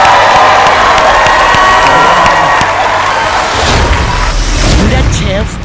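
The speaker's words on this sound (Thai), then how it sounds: "ขอเสียงเชียร์ดังๆให้กับทั้งสองทีมครับ" A studio audience on a televised Thai cooking competition cheers and shouts loudly for both teams, a dense sustained roar that swells toward the end, with a host's voice mixed in.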